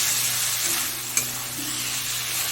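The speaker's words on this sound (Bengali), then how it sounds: "এবার ভেজে রাখা আলুগুলো দিয়ে দেবো, দিয়ে আরেকটু মশলার সঙ্গে আলুটাকে কষিয়ে নেব।" Fried potatoes hiss and sizzle in a pan with spice paste for a Bengali koi fish curry, a steady close frying sound broken by a single sharp scrape of a spoon stirring.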